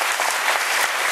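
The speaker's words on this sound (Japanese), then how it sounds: "そして大きな拍手でお送りください。" Close, dense audience applause at a post-screening stage greeting for the film Rurouni Kenshin, a continuous wash of many hands clapping steadily through the whole brief moment.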